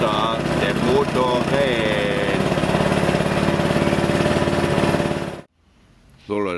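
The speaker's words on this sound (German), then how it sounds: "So Leute, habt ihr ja gesehen, das Ding läuft." A repaired scooter engine runs loudly and steadily up close with a rattling buzz, then cuts out abruptly near the end, leaving brief quiet before a voice starts.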